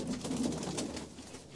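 Pigeons of a Punjabi pigeon-keeping club coo in low, throaty bursts, close and moderately loud at first, then tapering off, with no talk.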